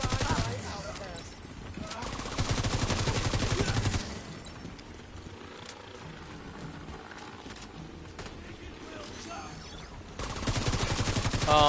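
Assault rifle gunfire in The Division 2, dense rapid bursts of shots that swell loud in two stretches and drop back to quieter combat noise in between, with a voice talking over it.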